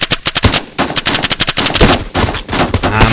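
Rapid automatic gunfire from a weapon in the mobile shooter Bullet Force, loud close shots in a fast irregular stutter of bursts with short pauses, no talking.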